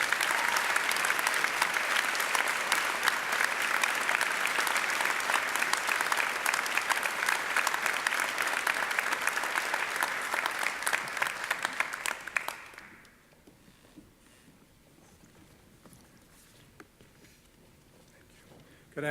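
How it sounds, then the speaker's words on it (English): Vigorous applause from an audience at a college honors convocation for award winners, dense sustained clapping for about twelve seconds before it dies away abruptly into near quiet room tone. "Now you can give vigorous applause to all of our winners this year."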